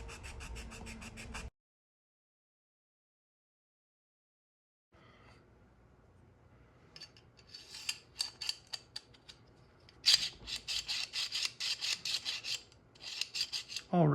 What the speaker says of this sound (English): not only is it easier to sand lengthwise like this